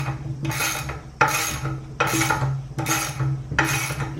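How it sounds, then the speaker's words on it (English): A KTM wheel bearing being pressed into the hub with a socket, washer and nut: five rhythmic rasping, grinding strokes, each lasting about half a second, close up with steady low mechanical hum beneath. "grab your socket, and you can start pressing the bearing in"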